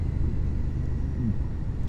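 Motorbike being ridden along a road with sweeping bends, a low steady engine and wind rumble close up, with no voice over it.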